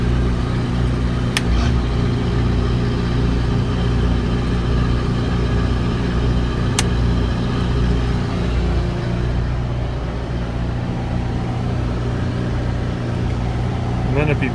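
12kW Powertech generator that is not making power, running steadily with a loud, constant engine drone and hum throughout, a couple of faint clicks over it.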